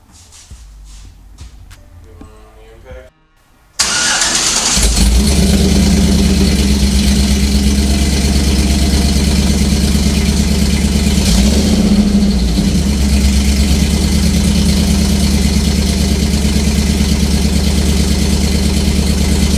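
A Chevrolet Silverado truck engine with long tube headers and an MBRP exhaust cranks briefly, then catches and settles into a loud, steady, deep idle that rumbles on close by with a slight waver partway through.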